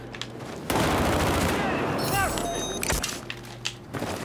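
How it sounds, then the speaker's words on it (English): F2000 rifle fire in the video game Battlefield 4, a loud, rapid burst of automatic gunshots that runs for a few seconds, followed by mechanical clatter and a few scattered shots. "this F2000 is just being like a laser beam right now"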